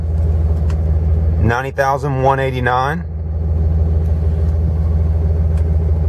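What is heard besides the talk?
2007 Dodge Ram 3500 truck engine idling after start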